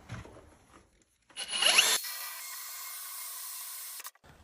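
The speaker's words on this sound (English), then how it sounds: "putting a little sponge in the core bit for drilling out" A drill fitted with a core bit holding a wet sponge bites into tile, a brief loud grinding burst followed by a steady high whine of the spinning bit before it stops abruptly.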